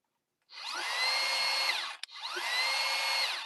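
A new Kreg power saw runs in two bursts, each starting with a rising whine, holding a steady high-pitched motor drone, then briefly cutting out in between; close and fairly quiet overall.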